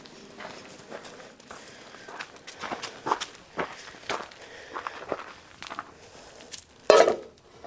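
Footsteps crunch along at a steady walking pace through a snowy winter camp toward a small campfire, with a few scattered clinks and a louder knock near the end.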